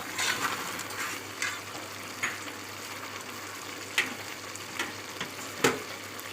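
Coriander sizzling in a pot while mutton curry is cooked, a constant moderate hiss of frying with occasional scrapes and knocks of a spoon against the pot.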